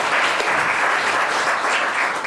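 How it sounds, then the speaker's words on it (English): Loud, dense applause from an audience at a Glendale City Council organization meeting greeting newly installed council members, continuous clapping close up. "let's give them a big round of applause before we do the formal presentation and all of your family"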